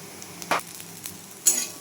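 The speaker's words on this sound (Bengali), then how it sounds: "এরপরে এগুলি আমি খুব ভালোভাবে নাড়িয়ে পুরটি রেডি করে নিই" A spoon stirs spiced bread-chop filling in a frying pan, making two short, quiet scraping strokes over a faint background hiss.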